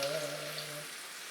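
A splash of Pinot Grigio white wine hits a hot pan, giving a brief close sizzle and hiss that fades within about a second.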